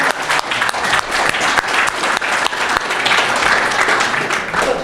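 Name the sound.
audience applause at esports conference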